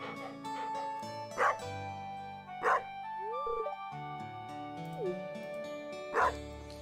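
A cartoonish video-game dog named Dusty gives several short yips and woofs over steady looping game music, each bark brief and clear above the soundtrack.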